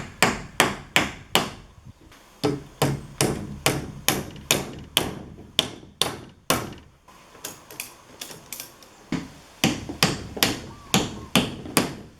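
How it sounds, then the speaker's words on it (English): A hammer drives nails into wall studs while plywood siding is fitted to enclose a carport, with sharp, ringing blows in quick bursts and short pauses between nails, loud and close. "So I'm going to put a nail on each of these studs"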